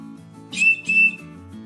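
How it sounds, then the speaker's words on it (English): Two short, shrill blasts of an SOL Slim Rescue Howler whistle, close and loud, over a quiet background with a faint low hum. "Got the Slim Rescue Howler whistle."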